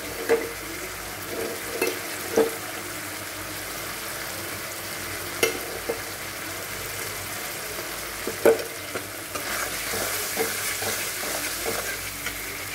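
Spices and tomato paste, with peas and sugar, frying in a pan for Bengali cauliflower curry, a steady close sizzle broken by scraping stirs and occasional clinks of the spoon.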